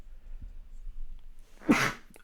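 A single loud, sharp sneeze bursts out close by after a moment of quiet room murmur.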